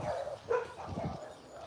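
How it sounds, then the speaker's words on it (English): Dogs bark at a distance in a garden with apple trees, a few muffled barks and yips in quick succession, fairly faint. "My dogs are going crazy."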